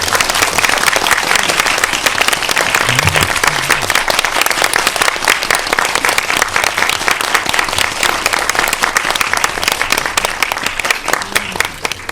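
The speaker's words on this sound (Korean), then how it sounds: "박수로 환영해 주세요." Sustained audience applause in a CGV cinema on a Korean film's opening day, welcoming the director and actors to a post-screening talk, with dense, even clapping from a sizable crowd for over ten seconds.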